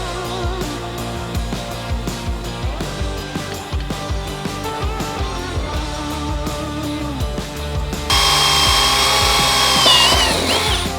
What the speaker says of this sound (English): We'll take this off and we'll drill and install the plus nuts the same fashion we did these back ones.